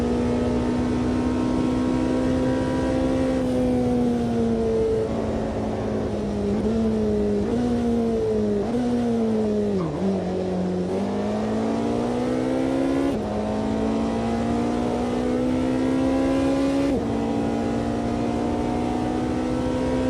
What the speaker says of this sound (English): Got the amazing engine, and of course you've got the electric motor that's sending some power to the wheels as well.